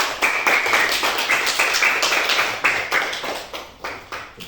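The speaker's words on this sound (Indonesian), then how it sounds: "Kasih tepuk tangan dulu dong" Students in a classroom clap their hands in a loud, close, roughly rhythmic series of claps that runs for several seconds with no talking.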